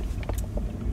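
Steady low rumble of a car driving, heard from inside the cabin with faint clicks and rustles on top, continuous and moderately loud.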